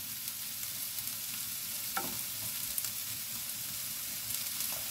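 Two eggs frying in a pan give a steady, even sizzle with a few faint scrapes, close and alone without talk.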